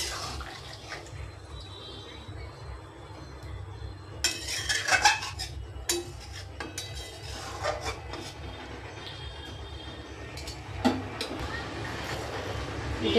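A spoon stirs Patia fish curry with added water in a pan, giving clattering scrapes and knocks against the metal, loudest in a mid-clip burst, over steady kitchen background.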